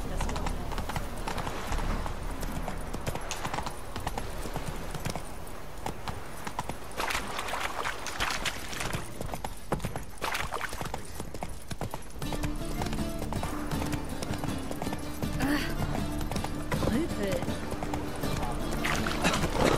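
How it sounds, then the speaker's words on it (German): In The Witcher 3 video game, a horse gallops up out of water, its hooves clip-clopping steadily and loudly throughout, with an occasional whinny and splashy game ambience. "Da kommt das Pferdchen aus dem Wasser."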